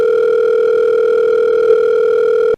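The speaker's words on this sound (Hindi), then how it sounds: "तो सदा एजाज को फोन लगाया जाए" A telephone line gives a steady, unbroken tone while a call is being placed, loud and alone for about two and a half seconds before it cuts off abruptly.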